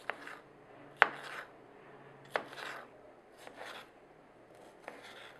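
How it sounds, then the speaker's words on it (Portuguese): A knife slices a washed tomato into squares on a board, several distinct sharp cuts spaced irregularly, close and fairly quiet, no voices. "E enquanto isso, vou cortando o tomate."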